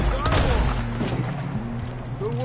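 Video game gunfire in a tense escape scene, a rapid burst of loud shots and booms packed into a couple of seconds, with voices faintly underneath.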